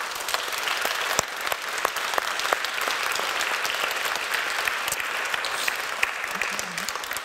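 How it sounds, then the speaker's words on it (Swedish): An audience in a museum lecture hall applauds a research communication panel, a dense, even patter of many hands continuing steadily throughout, with faint voices underneath. "En applåd till dessa"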